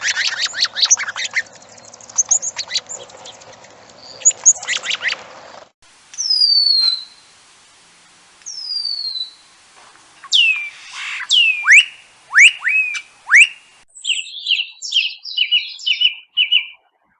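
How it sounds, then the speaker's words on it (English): Sparrow song: harsh, unmelodic chirps and descending tweets, repeated in quick close bursts, loud and near, with no talk. "as you can tell by listening to the bird's sounds"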